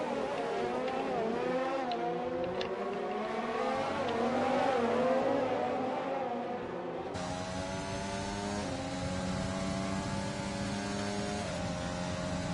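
F2 race cars overtake in a sim racing game, their high engines whining and revving in layered, shifting tones. One car pulls past with a steady roar, and there is no talking.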